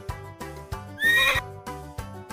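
A stallion's whinny rises and wavers for about half a second, loud and close, over a steady rhythmic beat of music running through the whole clip.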